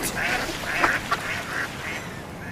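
Ducks quacking close by in a short run of several nasal calls, fairly loud over light outdoor background.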